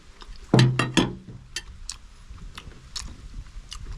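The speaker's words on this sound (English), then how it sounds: "Chewing up the pimento with some of this gravy, just wicked." Close, crunchy chewing of pimento seeds with gravy, a couple of sharp bites early followed by softer scattered crunches and clicks, quiet and without speech.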